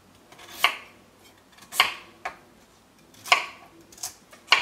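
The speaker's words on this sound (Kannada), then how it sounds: "ಕ್ಯಾರೆಟನ್ನು ಈ ಥರ ಹೆಚ್ಚಿಟ್ಕೊಳ್ಳಿ." A knife chops carrots on a cutting board for cracked wheat bisi bele bath, giving six sharp, separate knocks at an uneven pace. The knocks are close and clear, with quiet gaps between them and no talking.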